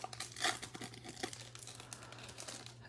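Baseball card packs being torn open, quiet crinkling foil and paper tearing with a sharper rip near the start, followed by softer crinkles and rustles, close and faint over a low steady hum.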